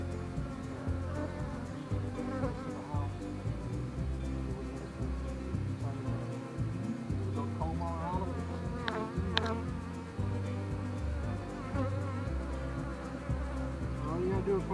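Honey bees buzz around a tree high off the ground during a bee rescue, a steady insect drone running throughout with close passes that rise and fall, while people talk faintly in the background.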